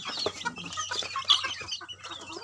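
Young chicks on a farm, being moved to a new coop, make soft, repeated clucking and peeping calls close by over a faint low hum, with no talking.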